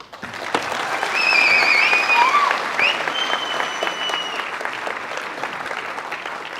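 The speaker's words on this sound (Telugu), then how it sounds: "మీరు నిజంగా వీళ్ళలో చప్పట్లు కొట్టాల్సిందే వాళ్ళకి" A crowd applauds steadily, dense clapping holding throughout with a few faint whistles in the mix.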